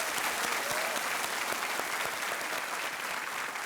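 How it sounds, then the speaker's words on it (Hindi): Studio audience applauding on a Hindi TV quiz show, a dense, steady wash of clapping that stays loud and even for the whole stretch, with no talking over it. "जनता से आग्रह करते हैं कि ताली बजाएं"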